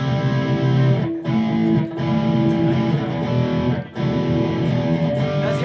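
Electric guitar played through effects with some distortion and chorus, holding dense sustained chords with a few brief breaks in a studio-to-stage tone setup.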